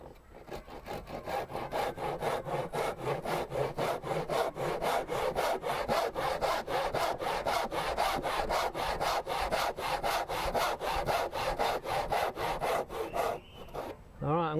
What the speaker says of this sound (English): One is the very conventional way, where you take the saw and you saw across the top.